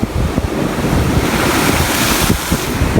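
Loud surf roars and crashes continuously against a road during a typhoon in Southern Leyte, with heavy wind buffeting the microphone throughout.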